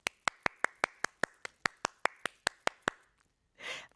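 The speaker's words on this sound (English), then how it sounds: "let's give a round of applause to all of our honorees." Evenly spaced, crisp handclaps at a Hall of Fame awards ceremony honoring inductees, about a dozen in steady rhythm like a single pair of hands, fairly quiet and close, stopping abruptly before a short breathy rustle.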